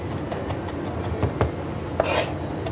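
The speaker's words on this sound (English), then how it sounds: "What I'm doing here is shredding the leaves off of the rosemary" Rosemary leaves stripped from their sprigs by hand in a kitchen while preparing racks of lamb: a soft, steady rustling and rubbing close up, with a few small ticks and a brighter brush of friction near the end.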